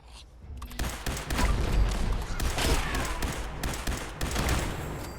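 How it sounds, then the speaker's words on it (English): Rapid bursts of Fallout 76 video game gunfire crackle and boom almost continuously, loud and close, with a few brief pauses between volleys. "this weapon's quite loud"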